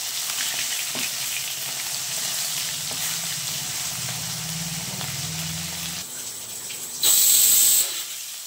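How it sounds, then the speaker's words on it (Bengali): Fish frying in a pan for an old-style Bengali fish curry with potato and eggplant, a steady close sizzle and hiss that briefly swells louder near the end, with some stirring and no talk. "মাছগুলো ভালো করে ভেজে নিতে হবে। ভাজা হচ্ছে মাছগুলো।"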